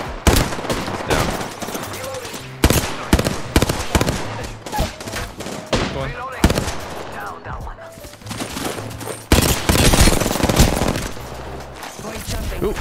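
Hemlock burst-fire rifle from Apex Legends firing in rapid three-round bursts, loud and close, with repeated volleys across the stretch and a player talking over the shooting.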